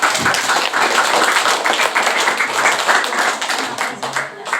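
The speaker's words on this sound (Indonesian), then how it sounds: "boleh tepuk tangan dulu" An audience at a presentation session claps steadily for several seconds, a dense, even wash of many hands at close range, with little variation in loudness and no voices standing out.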